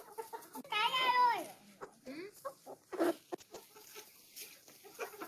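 Farm chickens clucking close by in a short burst of loud, rising and falling calls, followed by softer scattered clucks and rustling noises.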